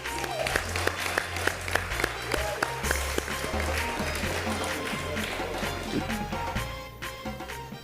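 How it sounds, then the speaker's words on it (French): Studio audience applauding contestants on a French cooking competition show, a steady wash of clapping with sharp individual claps over a low rhythmic music bed, sustained for several seconds before easing off. "On les applaudit, vous êtes encore là."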